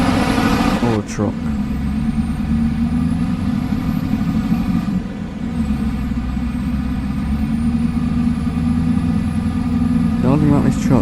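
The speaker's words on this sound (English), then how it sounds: "The only thing about this truck, it seems extra loud." A loud, steady truck engine drones in Farming Simulator 25, a heavy low rumble running throughout with a few brief hissing bursts.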